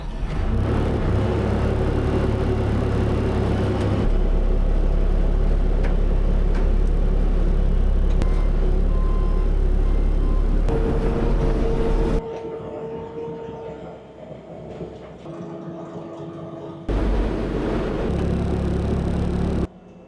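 Skid steer engine running loudly and steadily with a low rumble, dropping quieter for a few seconds in the middle before revving back up near the end.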